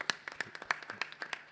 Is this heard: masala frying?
no